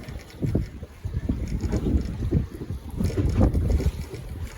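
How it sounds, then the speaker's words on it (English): Gusty wind buffets a fishing boat off the Suffolk coast, a steady low rumbling roar with surging gusts battering the microphone, the hull and water noise mixed in, loud and close with no talk. "That wind's starting to pick up now as well."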